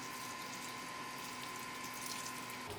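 Swiss vegetable bouillon stock, about a pint, poured steadily into a pot for a vegetarian stew, a continuous close liquid splash and trickle lasting a few seconds with no talk.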